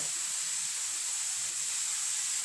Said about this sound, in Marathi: आपल्या खेरीला आली उकळी